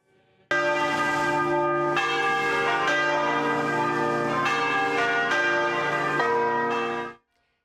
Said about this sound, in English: The Basilica sent us this video after pealing their bells for 2 minutes